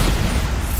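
Bombarda explosion spell from Hogwarts Legacy, a short dull low boom with a rumbling burst, heard on its own and fairly loud.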